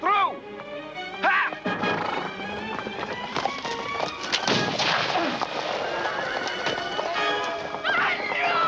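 A horse-drawn carriage pulls away amid a crowd, with hooves clattering, horses whinnying and a crash, all loud and continuous over shouting voices.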